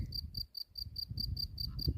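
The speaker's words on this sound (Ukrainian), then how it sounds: "Пока, цвіркун, співай далі." A cricket chirps in a fast, even rhythm of short bursts in midsummer, nearby and fairly clear over a soft low background murmur.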